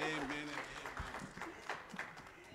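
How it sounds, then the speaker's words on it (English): A church congregation claps to welcome the preacher at a Sunday service: a soft, fairly distant patter of applause mixed with a speaking voice. "let's receive the preacher with a hand of clap"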